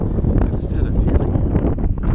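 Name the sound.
wind blowing outdoors near water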